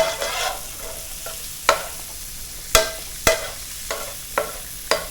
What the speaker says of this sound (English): and we're going to brown it a little bit